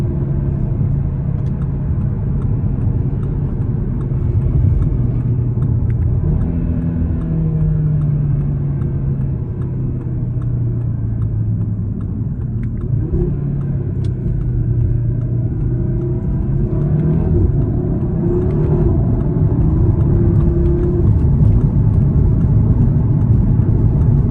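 Audi TT RS with its five-cylinder engine on a test drive, a steady, close, mid-pitched engine drone and road rumble with gentle rises in revs, no voices over it.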